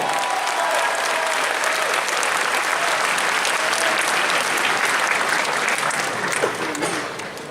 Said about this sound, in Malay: Berikan tepukan paling kemudian pada petang ini.